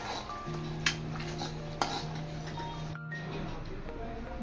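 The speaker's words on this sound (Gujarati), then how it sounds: "હવે હું આને એક બાઉલમાં કાઢી લઈશ." Palak paneer is spooned out of a pan into a bowl, with two distinct metallic clinks of the spoon against the cookware over a steady low background hum.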